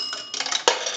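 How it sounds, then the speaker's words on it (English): A dime dropped into a Western Electric 233G three-slot payphone strikes the coin bell, giving bright metallic rings in quick succession, close and clear, with no voices. "We're going to do a dime. That will ring the bell 2 times."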